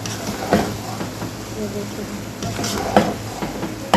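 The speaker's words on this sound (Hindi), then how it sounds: "और इसको अच्छे से मिक्स करूँगी।" Boiled rice is stirred with vegetables and eggs in a hot pan for Chinese-style fried rice, with repeated scraping and clattering of a utensil against the pan over a soft sizzle, close and fairly loud, without talking.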